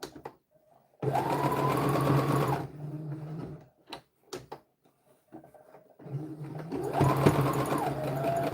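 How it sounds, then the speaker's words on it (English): A sewing machine stitches in two sustained runs, each a steady loud mechanical whir close by, separated by a few seconds of quiet with small handling clicks. "Now when you're sewing, you don't have to really like hurry up."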